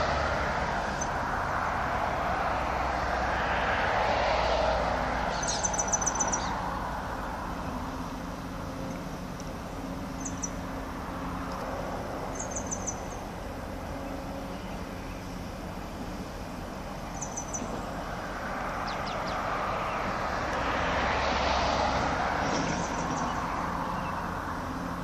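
A helicopter flies near the ship Marion Dufresne off Port Est, Réunion, its rotor drone rising and fading as it passes at a distance, twice swelling louder, with faint small clicks over a steady outdoor background.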